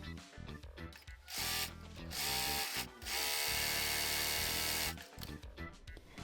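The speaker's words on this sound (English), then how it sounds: "Set your machine to a stitch length of 4 and the highest tension and sew to form gathers." A sewing machine running long gathering stitches on blouse fabric at high tension, whirring steadily in two sustained runs of a second or more, with clicks and handling noises around them.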